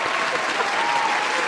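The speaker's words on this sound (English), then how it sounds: "please give a big round of applause, whatever stage in time and space you are" An audience applauds a guest named Elohim on an interview show, producing a steady burst of close, full clapping with no gaps throughout.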